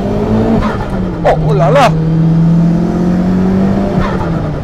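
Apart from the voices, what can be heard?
twin-engine Audi TT accelerating hard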